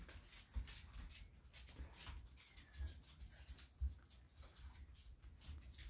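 A puppy whimpers in thin, high squeaks, intermittent and fairly close, with soft scuffling and thumps of play underneath; no speech.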